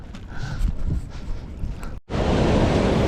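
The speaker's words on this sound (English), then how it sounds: "I need to get across that river. There's no way I'm swimming in that." A fast mountain river on the Hampta Pass trek in India rushes as a constant roar, with wind buffeting the microphone, then jumps to a louder, closer torrent after a brief cut.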